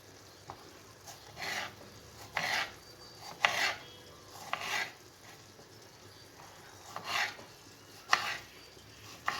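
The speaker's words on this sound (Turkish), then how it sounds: "Domatesi doğruyorum arkadaşlar." Knife strokes chop through tomatoes on a board, irregular bursts of cutting spaced a second or so apart, close and fairly quiet.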